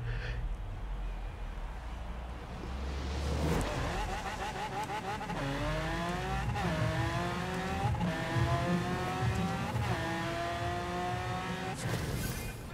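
A 2016 Lamborghini Aventador Super Veloce in a Forza Horizon drag race, its engine building from a low idle to a loud, sustained roar with rising pitch sweeps and sharp gear-shift breaks, tire squeal mixed in.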